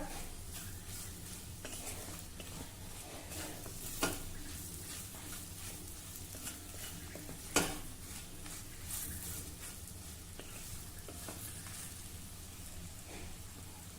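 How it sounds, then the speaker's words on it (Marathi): Chillies being sautéed with dry spices in a hot kadhai give a steady, low sizzle with soft stirring scrapes and a couple of sharp utensil knocks, fairly quiet and continuous with no talking. "आता सर्व मसाल्यांबरोबर अगदी थोड्या वेळासाठी आपल्याला हे परतायचं आहे"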